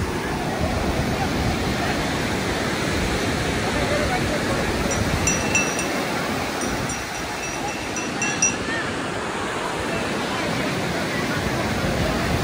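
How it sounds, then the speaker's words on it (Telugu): Waves breaking on Chennai's Marina Beach form a constant, dense roar of surf and wind that stays steady and fairly loud throughout, with no clear voices. "మొత్తానికి మీరు చెన్నై మరీనా బీచ్ చూస్తూ ఉన్నారు"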